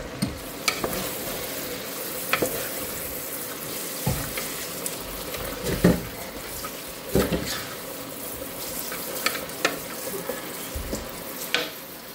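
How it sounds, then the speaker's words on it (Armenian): Carrots and peppers frying in vegetable oil in a pan, a steady soft sizzle broken by intermittent scrapes and clacks of stirring, heard close with no talking. "Հիմա լավ տապակում ենք"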